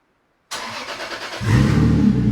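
After a moment of silence, a Toyota Supra engine with no exhaust pipes fitted cranks and fires up, then settles into a loud, raw, rumbling idle that swells slightly, very close.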